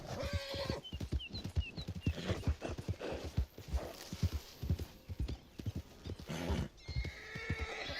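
A horse in Red Dead Online reacts to a nearby black bear, with clopping hooves, stamping and loud whinnies and neighs in quick succession.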